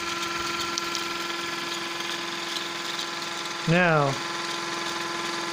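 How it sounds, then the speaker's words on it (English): A small electric motor hums and whirs steadily on a bench during a flyback generator test with the generator coils connected, a moderate tonal drone with a brief louder rising-and-falling whine near the end and a short spoken word over it. "Here's the motor going."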